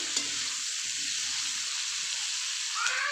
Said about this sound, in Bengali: আমি সমস্তটাকে ভালো করে ফ্রাই করে নেবো